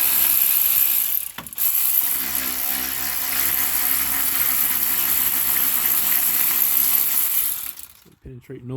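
A ratchet wrench loosens a 14 mm rear sway bar bushing bolt on a 2006 Mazda 5, producing several seconds of fast, continuous close-up clicking that stops abruptly near the end.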